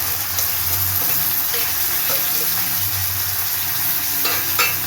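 Chopped onion sizzles and fries in hot oil in a pan for an egg and capsicum curry, a steady close crackle with occasional stirring scrapes and no talking.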